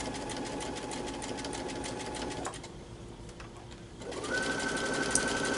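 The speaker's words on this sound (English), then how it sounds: "And so I'm letting the right side of my needle fall off the right side of my applique piece" A sewing machine runs a zigzag stitch over the raw edge of an appliqué fabric piece, a steady close mechanical whir that briefly slows and drops, then resumes at speed.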